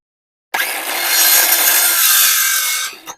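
A continuous, loud buzzing cut through wood by a power saw, running steadily for a few seconds before stopping abruptly.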